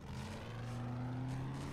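A vehicle engine in the survival video game 7 Days to Die hums with a steady low drone that rises slightly in pitch, moderately loud and with no talk over it.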